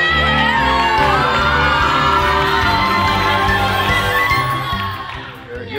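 A theater crowd cheers and whoops loudly as an actor walks through a tunnel during a production of The Little Mermaid, with excited shouts and children's voices layered over a dense, sustained roar.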